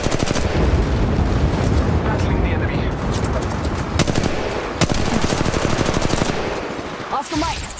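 Sustained automatic gunfire in Apex Legends, loud and dense rapid bursts running almost continuously with booming impacts, tapering off near the end.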